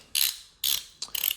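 A ratcheting line wrench clicks in three quick bursts, each a crisp run of metallic ratchet ticks heard up close with short pauses between.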